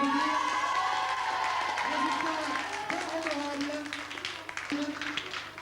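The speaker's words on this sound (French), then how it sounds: "On peut les applaudir." Audience at a 1993 summer-camp game show in Capbreton applauds and cheers the winning team, a steady wash of clapping and crowd noise that fades slightly toward the end, with voices mixed in.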